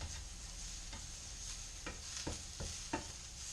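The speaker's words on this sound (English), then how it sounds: "Onions are getting caramelized just a little bit." Onions frying and caramelizing in a pan, heard as a soft, steady sizzle with a few quiet stirring scrapes and taps, close but low in level.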